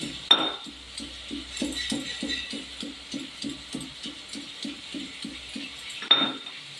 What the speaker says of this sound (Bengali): গোদা ধনে নিয়েছি আর একটু আদা একসাথে বেটে নেব